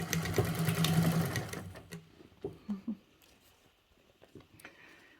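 A sewing machine stitches a Travelnizer bag in a short loud whirring burst, then falls quiet, leaving a few soft clicks and handling sounds.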